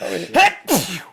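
A single person sneezes indoors in two quick bursts, close and loud, during a casual conversation.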